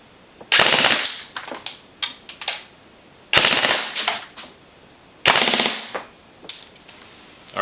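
A Cyma MP5A4 RIS airsoft gun fires through a chronograph in three loud, close full-auto bursts, each a rapid mechanical rattle followed by scattered single shots, with brief pauses between.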